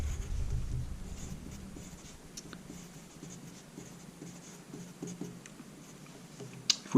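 A line drawn on a board during a chemistry lesson, heard as faint, irregular scratchy strokes and ticks at close range, with no voice over them.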